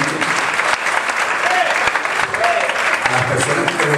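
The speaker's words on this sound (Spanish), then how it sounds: "¿Por qué no le damos un aplauso a estos dos líderes tremendos?" A congregation gives loud, continuous applause for two marriage ministry leaders, close and crowded clapping with scattered sharp claps and a few voices underneath.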